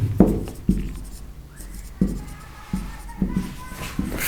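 Marker or chalk writing on a classroom board in short strokes and taps, several distinct bursts spaced irregularly, close by, with faint room noise between.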